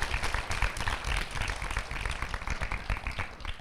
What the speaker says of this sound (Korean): 여러분들 큰 박수 부탁드려요.